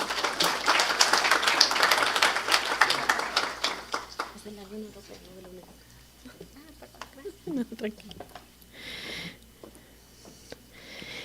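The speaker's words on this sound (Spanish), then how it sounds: "Un fuerte aplauso también para ella." An audience at the opening ceremony of an Amazon journalism and climate summit applauds loudly for the first few seconds, then the clapping thins out as a voice speaks.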